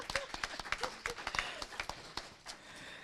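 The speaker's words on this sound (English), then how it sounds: "Round of applause, because it's a big deal." Sparse clapping from a small audience at an artist-in-residence panel event, with distinct individual claps in an uneven rhythm that thins out toward the end, fairly quiet overall.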